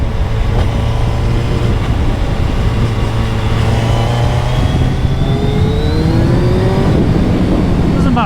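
A 2022 Suzuki Hayabusa engine pulls hard during a ride, its rising whine climbing in pitch under heavy wind roar, loud and close throughout.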